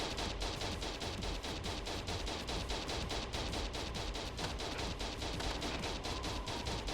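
Rapid, steady automatic gunfire from a TerraTech vehicle attacking a Cyclone in the video game, a continuous stream of evenly spaced shots at moderate level with no pauses.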